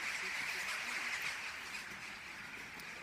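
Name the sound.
large flock of birds calling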